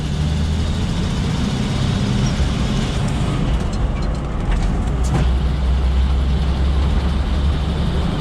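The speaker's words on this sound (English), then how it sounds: "Motor's a little cold, but she'll warm up in a minute" A repaired truck engine idling cold on its first drive, a steady low rumble with road noise that stays constant and close throughout, with no voices.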